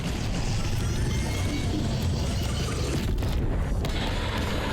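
An oil trap ignites in Black Ops 6 Zombies, a dense, sustained roaring whoosh of flames heard close and loud throughout, with brief dips in the hiss partway through.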